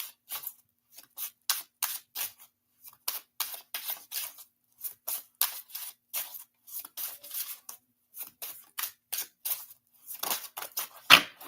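Tarot cards are shuffled by hand in a quiet room, producing a rapid series of crisp riffling bursts, close and evenly repeated with short pauses.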